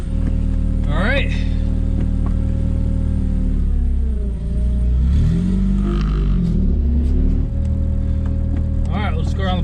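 A Porsche 996 with a swapped-in Honda K-series engine idles and then pulls away, its engine note rising and falling under a steady rumble while people talk in the car.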